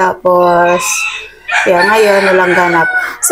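A rooster crows loudly and close by, two long harmonic calls with a short gap between them, over and under a person speaking casually.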